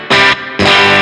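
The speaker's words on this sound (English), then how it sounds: "we get some kind of breakup tones because the pickups are quite hot" Budget metal electric guitar with hot pickups pushing a clean amp's input stage into breakup: two loud, gritty distorted strums in quick succession, each ringing briefly.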